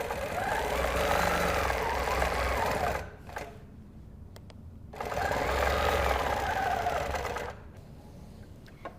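Domestic sewing machine fitted with a quilting hopping foot, stitching a straight quilting line along a ruler: two steady, fast bursts of whirring stitching separated by a short pause, close and alone.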